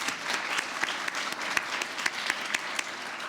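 Audience applause at a fall forum with opening speakers: steady, dense clapping from a crowd, even and moderately loud throughout, with no talk over it.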